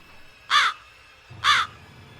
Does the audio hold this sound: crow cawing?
yes